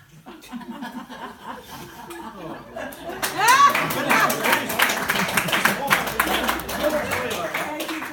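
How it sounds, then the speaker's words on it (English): Audience at a comedy storytelling performance breaks into laughter and applause that swells midway and continues as a steady, dense wash of clapping mixed with chuckles and voices. "I always leave a gap in the middle so I get extra applause."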